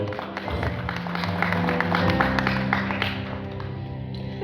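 A crowd at a ceremony honouring teachers applauds a teacher, a steady wash of clapping with dense individual claps, fairly loud and continuous throughout, with faint background murmur.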